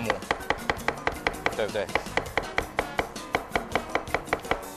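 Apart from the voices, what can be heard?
knife chopping food into mince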